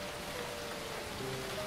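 Heavy rain pours steadily in a dense, unbroken hiss, with a faint low tonal hum running beneath it in a Tamil film scene.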